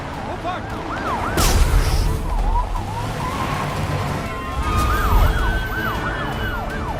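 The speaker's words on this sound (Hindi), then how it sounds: "तभी 2 एम्बुलेंस आई थी।" Ambulance siren wails through a tense hospital scene in the action film Jawan, with repeated rising-falling sweeps under a dense, loud score and effects, fading mid-clip and returning strongly near the end.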